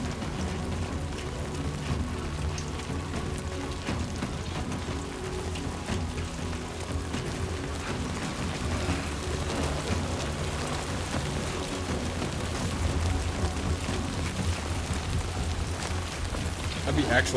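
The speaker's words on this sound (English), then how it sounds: "That'd be actual rain because the sky didn't darken." In Death Stranding, steady rain hisses and patters on surfaces without letup, a soft, even wash that swells slightly near the end while a voice talks now and then above it.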